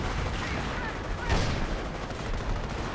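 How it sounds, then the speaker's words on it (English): Gunfire rattles across a battlefield in the strategy game Company of Heroes, with a sharp loud burst standing out from a continuous rumble of distant shots and explosions. "Just shooting guys on the field because you can."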